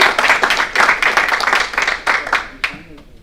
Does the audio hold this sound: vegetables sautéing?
no